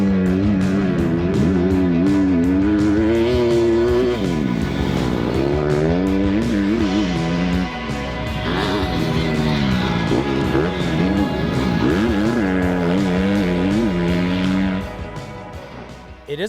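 A 2020 Honda CRF250R dirt bike with a quiet aftermarket exhaust, engine revving and dropping repeatedly through gear changes, loud and close for the whole run with no talk.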